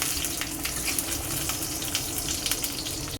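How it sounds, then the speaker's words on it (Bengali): A tikki patty fries in hot oil in a home kitchen, giving a steady, loud, close sizzle throughout with no talk, cutting off abruptly at the end. "চলো টিকিটা ভাজতে বসিয়ে দিচ্ছি।"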